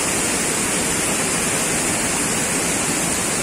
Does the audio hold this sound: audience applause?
no